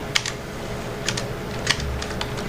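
Typing on a computer keyboard while filling in an Excel data entry form, with short clusters of close, crisp key clicks separated by brief pauses.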